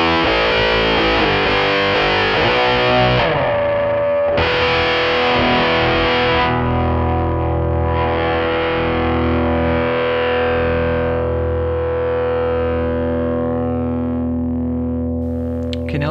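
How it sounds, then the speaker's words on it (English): Electric guitar through a Preamp MkII pedal with the expression pedal rocked to heel, giving a fixed cocked-wah tone: sustained distorted chords and ringing notes with a nasal, filtered midrange, played continuously with no talking. "moving the expression pedal to the heel position drops us into that cocked wah sound"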